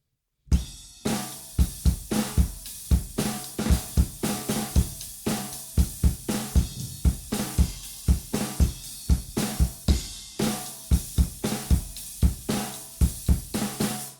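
A drum kit plays a full, odd-feeling rock riff built on eighth notes, with steady kick and snare hits and continuous cymbal wash, close and unaccompanied for about fourteen seconds.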